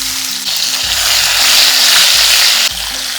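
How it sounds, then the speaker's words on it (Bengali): Marinated pointed gourd hits hot oil spiced with cinnamon, setting off a loud, dense, continuous sizzle heard up close, with a low background hum. "এরপর দিয়ে দেবো ম্যারিনেট করে রাখা পটল।"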